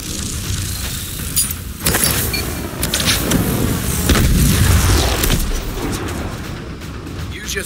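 A threat grenade detonates in Call of Duty: Advanced Warfare during grenade training, a loud boom with sharp transients over a heavy, rumbling low-end game soundscape.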